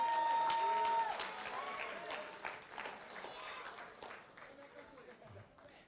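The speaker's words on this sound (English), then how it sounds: "y'all give them a big round of applause." Audience applauding three honorees at an awards and induction ceremony, steady broadband clapping that swells at the start and gradually thins and fades over several seconds, with some crowd noise and voices underneath.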